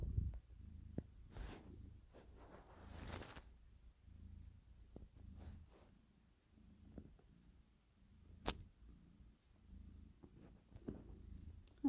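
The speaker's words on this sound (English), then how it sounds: "My cat Sola's just jumped up next to me" A cat purrs close by, a soft low rumble that comes and goes for several seconds between quiet gaps, with a few light clicks and rustles mixed in.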